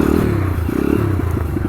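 Small 140 cc motorcycle rolling slowly in first gear under engine braking, a low, uneven close-up engine burble with light mechanical clatter for under two seconds.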